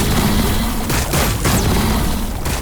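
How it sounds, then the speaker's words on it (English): Dense, loud gunfire and booming explosions from a Warhammer 40k Battlesector battle roar continuously, broken by sharp blasts throughout. "Receiving fire!"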